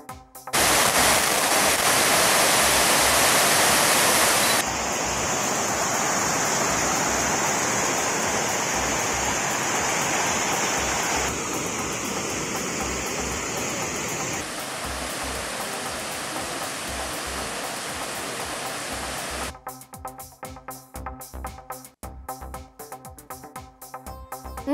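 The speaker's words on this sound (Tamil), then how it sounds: "அணையின் பாதுகாப்பு கருதி வினாடிக்கு 400 கனஅடி விகிதம் தண்ணீர் வெளியேற்றப்படுகிறது" Heavy water rushes from the Gomukhi dam after days of heavy rain, a loud, steady broadband roar that shifts in tone at several points before breaking into an uneven, grainier flow near the end, with no voices.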